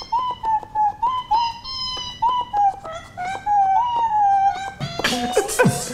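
Synthesized cat meows from a Nintendo Labo Toy-Con cardboard piano in a video game, played as a quick, melodic run of short meows, followed by a burst of brighter, noisier sound at the end.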